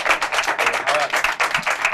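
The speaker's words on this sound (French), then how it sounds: "Ah, on applaudit ça." Audience clapping at a live show, a quick, close burst of many hands with uneven pulses, mixed with voices and some background sound.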